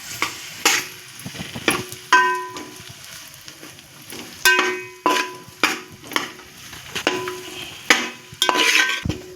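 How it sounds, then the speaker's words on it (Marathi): Dates frying in ghee in a pan, a steady soft sizzle broken by repeated clinks and scrapes of a spoon stirring against metal, close and moderately loud with no talking. "आता हे चांगलं तुपात तळून झालेलं आहे बघा खजूर मऊ झालं"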